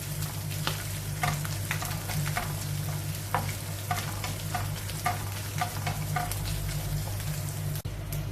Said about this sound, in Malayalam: തേങ്ങാപ്പീര നമുക്കൊന്ന് വറുത്തെടുക്കാം.